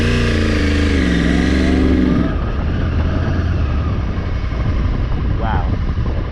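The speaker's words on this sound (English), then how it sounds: "That bike doesn't like low RPM. Okay. Start it." Yamaha R1 sport motorcycle engine firing up and revving hard, loud and close, with a rising rev sweep in the first two seconds and then a rough, raspy roar that holds steady to the end.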